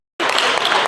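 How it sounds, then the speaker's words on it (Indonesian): Applause for a guest speaker, Pak Aki, at an Indonesian teachers' session, a dense burst of clapping that starts abruptly after brief silence and stays loud throughout the short moment. "Tepuk tangan untuk Pak Aki"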